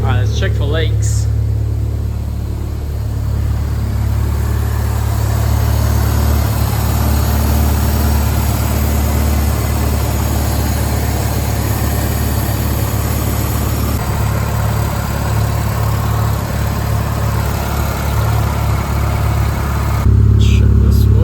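A car engine idles steadily through a newly fitted exhaust, giving a loud, continuous low rumble up close that barely changes throughout.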